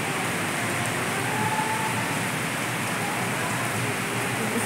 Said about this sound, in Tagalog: Nakusog sa ulan, guys.